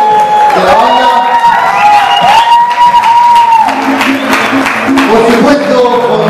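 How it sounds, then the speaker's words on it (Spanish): A crowd at a Latin music CD launch cheers and applauds loudly for new band members, with dense clapping, whoops and high sustained shouts filling the whole stretch up close. "Diego Gómez y Ronaldo Ramírez, un fuerte aplauso, son los nuevos integrantes de la banda."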